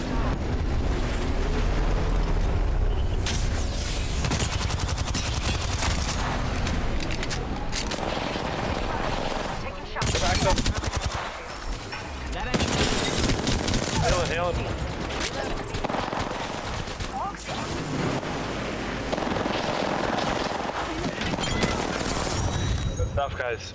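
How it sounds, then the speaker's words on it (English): Apex Legends gunfire during the final ring of a match, heard as a dense, continuous wall of loud shots and blasts, with brief gaps, for the whole stretch. "Opening fire."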